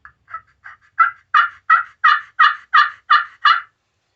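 Nearly a dozen evenly paced yelps ring from a cheap glass turkey call from Walmart scraped with a wood striker, loud and close with a deep tone, the first few softer before settling into strong, regular notes with no talk.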